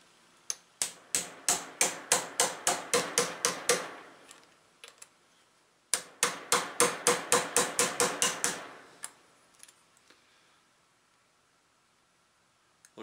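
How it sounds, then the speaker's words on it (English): Ball peen hammer tapping a drift punch to seat a part on a Poulan Pro 4018 chainsaw: two quick runs of sharp, evenly spaced metallic taps, close and crisp, with brief pauses and a few scattered taps after. "What I've got, just a ball peen hammer, just a drift punch, and I'm not going to hammer on this hard."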